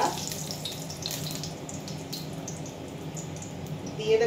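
Cumin seeds dropped into hot oil left from frying onions, in a home kitchen for chicken biryani with jackfruit, crackle into a continuous close sizzle that holds steady and swells slightly at the end.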